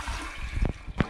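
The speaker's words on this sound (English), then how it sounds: "the first flush is not going to be very exciting because the bowl is filling back up" A toilet flushes after being unclogged with a drill bit, giving a steady close rush of water with gurgles and splashes as the bowl refills.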